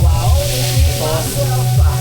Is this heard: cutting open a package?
no